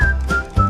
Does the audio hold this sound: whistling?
yes